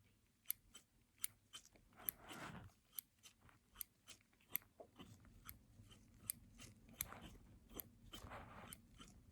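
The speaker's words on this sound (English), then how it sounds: "I'm going to be using my scissors just to, you know, cut off all those useless flesh" Scissors snip crisply again and again at a steady, unhurried pace, the sharp metallic cuts very close and quiet, with soft soft rustling between them in a calm doctor roleplay.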